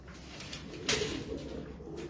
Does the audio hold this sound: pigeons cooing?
yes